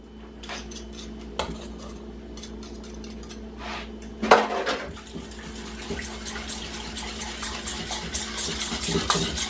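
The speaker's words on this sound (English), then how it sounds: "then you're just gonna whisk this together" Whisk clinking against a bowl while mixing an apple cider vinegar marinade for pork chops, a busy run of quick metallic taps and scraping with one louder clatter midway, close and steady with no talking.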